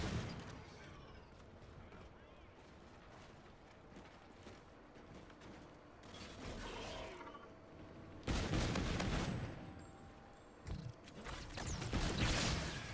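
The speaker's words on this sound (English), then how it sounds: "The shots are lined up perfectly and they just go clean through." Gunfire in the Call of Duty video game, a dense stream of rapid shots and mechanical clatter that grows louder in the second half with sharp bursts, with some voice chat faintly underneath.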